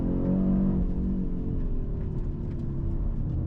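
A 2025 Audi RS 3 accelerates, its engine giving a deep, rumbling growl that rises in pitch and then eases off into a steady drone, heard from inside the car.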